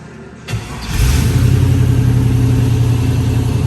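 A 1969 Chevrolet Camaro RS/LS with fuel injection cranks briefly, catches and fires, then settles into a loud, rumbling idle with a slight rev, close up and with no talking.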